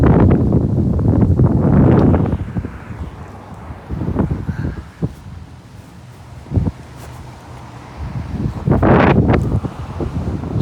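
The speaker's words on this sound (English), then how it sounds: "It's windy as shit." Strong wind buffets the microphone outdoors in cold weather, loud rumbling gusts surging and easing over about ten seconds with faint rustling between bursts and no talk.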